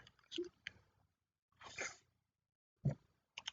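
A person makes a stifled, failed attempt to sneeze: a few short, breathy catches and sniffs in close succession, quiet and close, with a muffled burst partway through.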